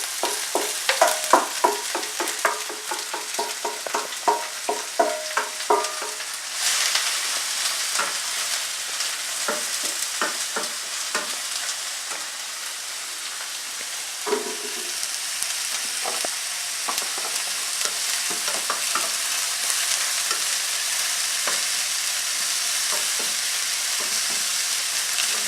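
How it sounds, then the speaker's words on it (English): Chopped onions fry in hot oil with a loud, steady sizzle, while a spoon scrapes and stirs in quick rhythmic strokes early on, then settles into continuous frying. "I'm now going to add the chopped onions, which I'm then going to fry until they're a sort of golden brown."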